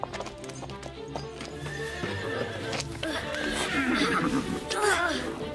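Donkey hooves clip-clopping in a farm setting near a foaling stable, a close, uneven series of hoof knocks with a braying or whinnying call toward the end, under French conversation.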